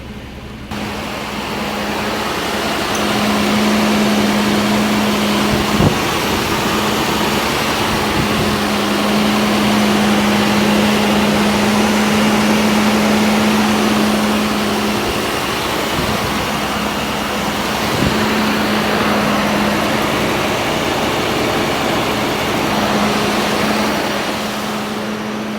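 A newly installed engine in a Jeep XJ idles while it warms up. The low, steady hum stays loud and close, with a constant drone and occasional faint clicks throughout.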